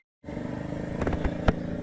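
Road Prince Wego motorbike pulling away at the start of a ride, with a steady engine drone that rises slightly as it gets going, a few sharp knocks or clicks near the end, heard close and alone.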